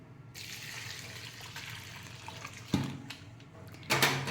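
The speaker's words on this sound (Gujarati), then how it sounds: "હવે આપણે એમાં ગરમ પાણી નાખી દઈશું." Hot water pours into handvo batter being mixed at home over a wood-fired clay stove, a soft steady splashing stream with a couple of louder bursts near the end.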